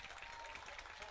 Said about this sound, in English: Hands clapping here at Regency Furniture Stadium on Pokemon night.